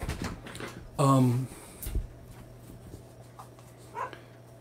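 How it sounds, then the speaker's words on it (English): A dog gives one loud bark or yelp nearby, followed by a few fainter yips and whimpers against a steady low hum. "She's been barking up a storm today."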